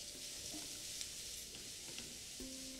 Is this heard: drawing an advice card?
no